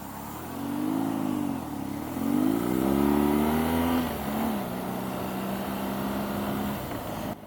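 A BMW R nineT Scrambler motorcycle engine revs up and eases off during a test ride, its pitch climbing and dipping through several throttle changes before settling into a steady, fairly quiet drone.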